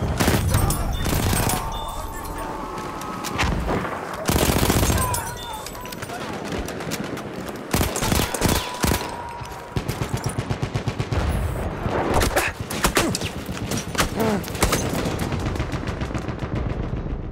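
Rapid gunfire and bursts of machine-gun fire in the World War I shooter Battlefield 1, loud and nearly continuous with sharp volleys and booms throughout.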